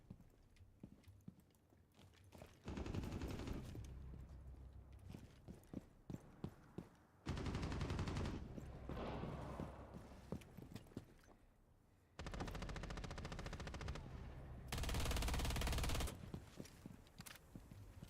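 Bursts of rapid gunfire from a weapon in a video game, several loud sustained volleys separated by quieter gaps with clattering sounds.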